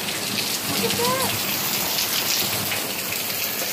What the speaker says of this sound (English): Dang, it's pouring now.